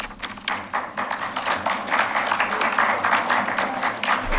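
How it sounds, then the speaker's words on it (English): Audience clapping at a city commission meeting, a scattered, moderately close patter of hands from a small crowd in a hall, building slightly over a few seconds. "Please don't clap."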